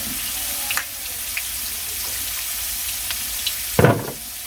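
Fish frying in hot oil in a pan, giving a steady hiss with small pops and a louder spluttering crackle near the end.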